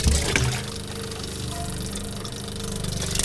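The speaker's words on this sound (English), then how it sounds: "We're going to wash our pan." Tap water runs steadily into a kitchen sink as a cooking pan is rinsed and washed. A knock sounds at the start, then a constant close splashing rush continues throughout.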